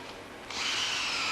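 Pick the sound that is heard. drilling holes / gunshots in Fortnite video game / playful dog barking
drilling holes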